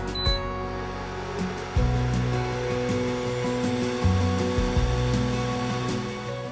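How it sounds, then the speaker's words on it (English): The extractor fan on an xTool F1 portable laser engraver runs at a steady whir during glass engraving, with a constant hum, stepped low tones shifting in and out, and faint clicks. "The extractor fan clicks in the minute you press start, and it will draw all those horrible fumes out of the room"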